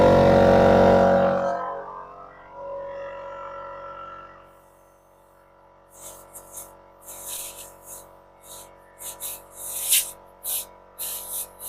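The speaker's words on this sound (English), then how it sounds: "if you have compressed air, use compressed air" Compressed air blasts out of a rubber handlebar grip in a loud, broad hiss at the start, fading over a few seconds, followed by quieter scattered rustling and handling noises.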